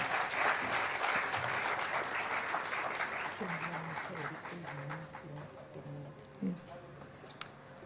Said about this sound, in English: Let us applaud as we welcome them.